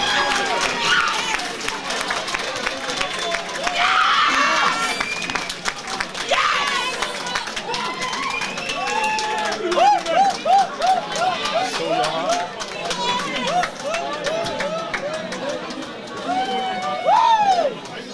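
Crowd at an amateur boxing home show cheers, whistles and applauds for a boxer from Kingston Boxing Club, a steady roar of clapping and shouts lasting throughout with an announcer's voice over it.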